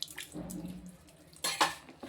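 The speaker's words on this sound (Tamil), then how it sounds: "இன்னும் கொஞ்சம் தண்ணி ஊற்றணும்" Water splashes and trickles close by in short bursts while being added to flour for dough, with a brief clink of a container and a sharper pour near the end.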